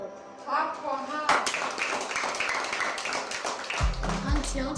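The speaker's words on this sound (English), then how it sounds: "Clap for her." Audience at a live event clapping, sharp scattered hand claps that start abruptly and build into a mixed, uneven round of applause, with voices talking over it and a low rumble near the end.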